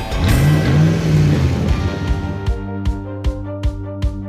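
A jet ski engine on open ocean water revs loudly with a rising and falling whine, then settles into a steady drone punctuated by regular, evenly spaced thumps, close and loud.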